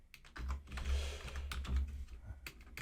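Brisk typing on an old computer keyboard, a close, uneven run of sharp key clicks and thumps with no talking.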